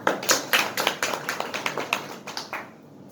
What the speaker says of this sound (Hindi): जस्टिमा के लिए एक छोटी सी ताली हो जाए